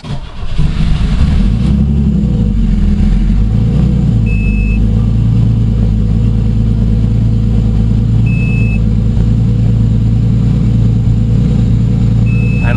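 Megasquirt-tuned 3500 V6 turbo engine in a Pontiac Grand Prix idling high, a loud, steady close-up drone with a constant low hum throughout, no voices.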